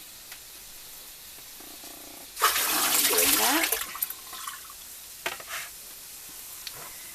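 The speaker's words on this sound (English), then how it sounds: "Now we're going to take it out of this water and put it into the skillet." Wet tofu lands in a skillet and fries, a loud sizzling burst that rises suddenly, holds for about two seconds and then fades into softer crackles and spits, with a few words spoken briefly.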